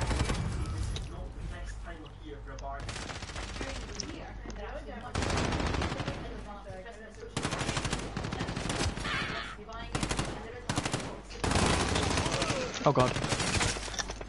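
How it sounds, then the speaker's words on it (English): Sustained automatic gunfire in Call of Duty Modern Warfare, loud rattling machine-gun bursts in repeated volleys with short pauses between them, and someone speaking briefly over the shooting. "This dude started shooting at me while I was eating."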